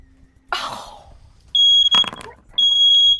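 A household smoke alarm shrieks in two long piercing beeps, the first broken by a brief gap, following an earlier burst of noise that sounds like a cough.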